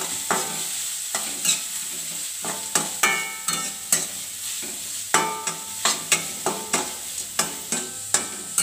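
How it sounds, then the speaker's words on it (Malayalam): Ingredients sautéed with salt and turmeric in a pan for vermicelli chicken biryani: a low sizzle under a steady run of sharp spatula scrapes and knocks against the pan, each stroke distinct and close. "ഇനി ഇത് നമുക്കൊന്ന് വഴറ്റിയെടുക്കാം"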